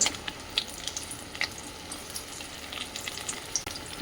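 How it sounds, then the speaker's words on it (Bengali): Steady crackling sizzle of large chunks of potato frying in hot oil, with small pops scattered throughout and no voices. "বড় বড় করে আলুগুলো ভাজছি এখন"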